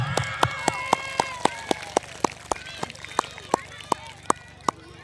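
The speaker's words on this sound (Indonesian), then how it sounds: "Tepuk tangan." Steady rhythmic clapping at a primary school cluster gathering, sharp evenly spaced claps roughly four per second that carry on throughout, with voices murmuring underneath.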